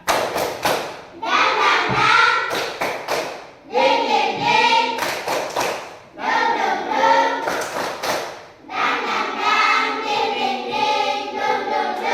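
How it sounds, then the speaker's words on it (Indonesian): A standing group of students in Indonesia performs a rhythmic 'tepuk semangat' spirit clap in four loud, patterned bursts, with clapping mixed with chanted voices and short pauses between rounds. "Tepuk semangat."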